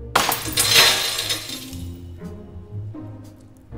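Glass shatters with a loud, sharp crash followed by tinkling fragments that fade over a couple of seconds, a few smaller clinks trailing off at the end.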